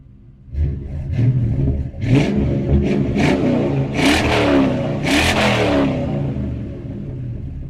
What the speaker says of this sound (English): it's true dual H-pipe, and then cheap Amazon MagnaFlow like knockoff mufflers, which honestly they sound pretty good